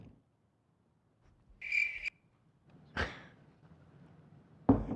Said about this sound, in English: There's crickets in here.